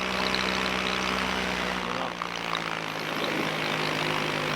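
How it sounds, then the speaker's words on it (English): Paramotor with a two-stroke engine in flight, a steady droning buzz of engine and propeller heard close and continuous with a slight dip midway. "This noisy two-stroke will piss them right off."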